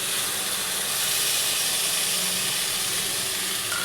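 Water from rinsing a spice-paste bowl hits a hot pan for a potato and pointed gourd dish with coconut, giving a loud, continuous steamy hiss close by with no pauses.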